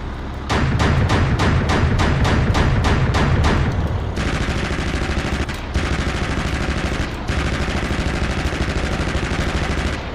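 The Bushmaster cannon on an M6 Linebacker in DCS World fires a loud, rapid string of evenly spaced heavy shots for about four seconds, followed by a sustained, dense roar of fire with brief gaps.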